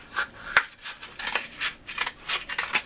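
Scissors snip through a toilet paper tube to cut it in half, a quick series of about eight crisp, close cuts at an irregular pace with no talk.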